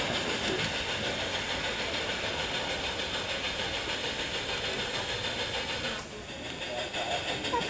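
A model railway train running along its layout: a steady, close rushing and whirring hum that holds constant, with a brief dip near the end before picking up again.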